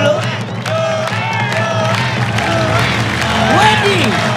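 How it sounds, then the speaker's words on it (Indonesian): A studio audience at an Indonesian TV music show claps and cheers for a duet, a dense, loud crowd roar with whoops over steady music, voices calling out through it. "Kasih tepuk tangan dulu."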